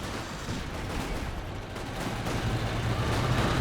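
LFH howitzer artillery shot in Company of Heroes 2 amid a busy battlefield, a muffled, fairly faint report buried in a steady clatter of surrounding gunfire and explosions.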